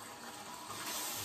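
Tap water runs in a steady, close rushing stream as a face is rinsed clean of hydrophilic cleansing oil at a sink, continuous with no pauses.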